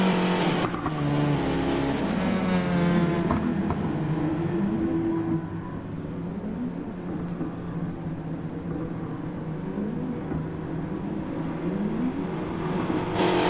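Race cars circle behind a safety car on a night-series circuit, engines droning loudly and continuously with rising and falling revs as cars pass close by, no voices over the roar.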